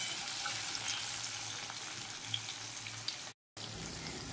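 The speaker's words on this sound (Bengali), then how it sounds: "সমস্ত আমের টুকরোগুলো আমি একসঙ্গে দিয়ে ভেজে নিচ্ছি।" Mango pieces for pickle fry together in oil with a faint, steady, crackling sizzle, broken by a brief silent gap near the end.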